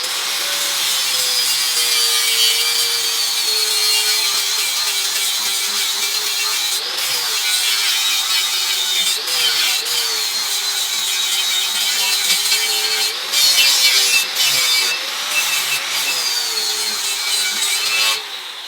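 An angle grinder with a 60 grit disc grinds aluminum in a steady, loud, continuous whine with slight changes in pitch and pressure, and no voices.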